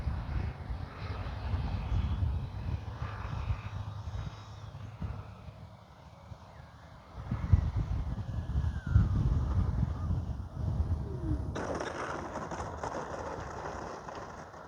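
A Freewing Mirage 2K V2 RC delta jet flies in strong wind, its steady engine roar swelling and fading over a continuous, gusty rumble of wind buffeting the microphone.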